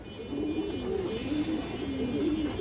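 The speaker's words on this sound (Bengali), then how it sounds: "এই দেখেন অনেক সুন্দর কবুতর।" Pigeons coo in a repeated, rolling pattern, with several low calls overlapping at close range. A faint higher whistle or chirp recurs above them, and no one speaks.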